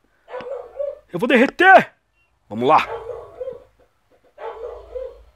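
A cartoon dog in the mobile game Crossy Road gives a few short, close barks in the middle of the clip, while an excited player talks loudly over the game sounds.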